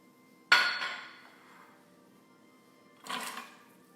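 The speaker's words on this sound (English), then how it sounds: "I'm gonna add in the carrots. I've got 3 large carrots that I've diced up." Diced carrots, three large ones, tumble into a pot of split pea soup in two quick clattering drops a few seconds apart, each fading out softly with no talk.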